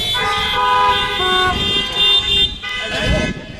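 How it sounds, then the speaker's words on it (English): Car horns honking at an outdoor drive-in graduation ceremony, several overlapping sustained blasts and toots sounding together, loud and steady, with a brief voice near the end. "honk your horn."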